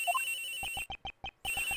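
A cell phone rings in the Ace Attorney Investigations game, a short chiming ringtone of rapid repeated electronic beeps in bursts, clear and alone.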